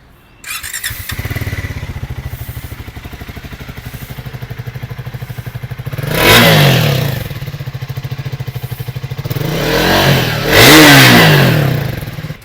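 A Triumph Speed 400 motorcycle with a dB killer fitted in its exhaust idles with a steady, close thrum, then revs hard twice in loud, rising bursts that settle back to idle.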